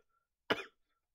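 One short, close cough from a single person, sharp and brief against near silence.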